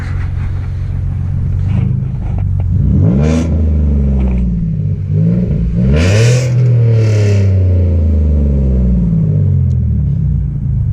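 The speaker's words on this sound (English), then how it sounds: "let me give it a little rev" A 2016 Mustang with a 3.7 V6 engine revs from a steady idle rumble, rising in sharp sweeping surges around a few seconds in and again later before settling back, loud and close with no talking.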